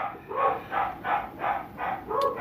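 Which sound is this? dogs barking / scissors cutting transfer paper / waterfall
dogs barking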